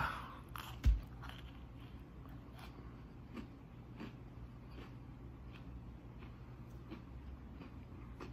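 A faint bite into an Oreo ranch taco gives one soft crunch, followed by quiet, muffled chewing in a hushed room.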